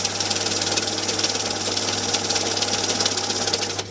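A steady mechanical whirring with rapid fluttering clicks runs throughout as an MC2200UV banknote counting machine riffles quickly through a stack of notes, close and continuous.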